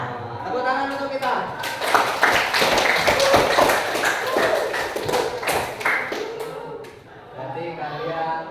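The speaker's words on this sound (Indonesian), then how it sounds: "Tepuk tangan untuk kita." A class of children clapping their hands together, bursts of quick, close claps mixed with chanting voices, rising in the middle and tapering off toward the end.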